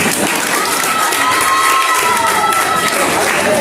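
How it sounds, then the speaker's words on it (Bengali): A song launch audience breaks into loud, sustained cheering and clapping for the filmmakers, a dense crowd roar that holds for several seconds. "ওনার জন্য একটা জোরে হাততালি"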